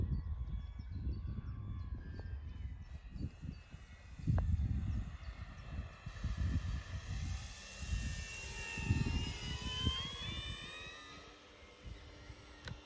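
A Cessna 182 light airplane makes a low pass, its engine drone rising and falling faintly in the distance with wind buffeting and rumble close by.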